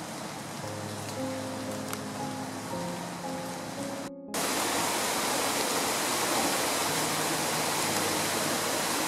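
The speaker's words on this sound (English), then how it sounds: "So Goose Creek is roaring." Goose Creek roaring after heavy rain of about two inches, a loud, steady broadband rush of water throughout, with low tones under it early on and a brief cut partway through.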